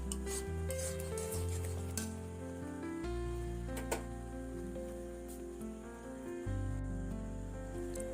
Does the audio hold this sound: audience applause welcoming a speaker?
no